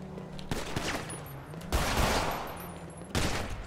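Gunfire in a GTA roleplay game, three bursts of rapid shots arriving at roughly even intervals, loud and close against faint background chatter.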